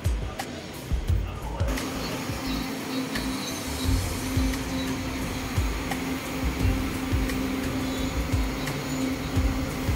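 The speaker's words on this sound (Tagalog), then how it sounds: "Sasakay kami ng tren papuntang Recto" Steady rumble and rolling hum of a passenger train riding from Katipunan to Recto, continuous at moderate loudness with a sustained tone and occasional rattles and clicks, no talking.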